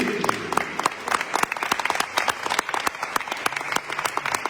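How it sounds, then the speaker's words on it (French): An audience at a church gathering applauds in acclaim of the Lord, a dense, sustained round of close clapping from many hands that fills the room. "Je voudrais qu'on acclame le Seigneur pour lui"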